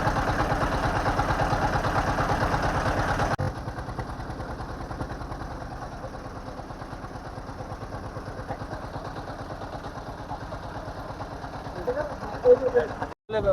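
A steady boat engine drones and chugs throughout on a river in Khulna, Bangladesh, loud at first and then a bit softer, with a rhythmic low thrum and faint voices in the background.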